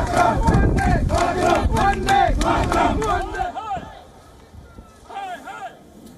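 A large crowd of Indian diaspora protesters outside the Pakistani consulate in Toronto shouts and chants loudly and densely, easing off after a few seconds before another burst of raised voices.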